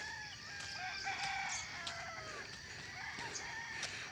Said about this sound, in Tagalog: Ada mga manok.